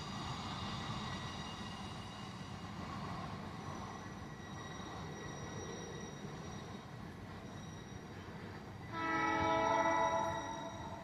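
A long container train rumbles past steadily at close range, wheels grinding on the rails, with a brief surge of metallic squealing near the end.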